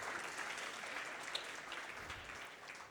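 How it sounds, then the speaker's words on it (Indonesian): Audience applause at a two-day Indonesian church community seminar, a steady wash of clapping throughout, moderately quiet and fairly distant, with no talk over it. "Kita beri tepuk tangan."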